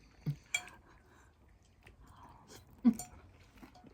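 Lasagne with a crunchy baked top being chewed near the mouth, a few sharp crunchy bites standing out among softer, quieter chewing sounds.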